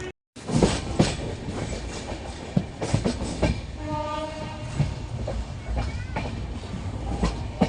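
The Howrah–New Delhi Duronto Express runs on the tracks with a loud rumbling roll and repeated rhythmic wheel clacks, and a brief horn-like tone rises midway.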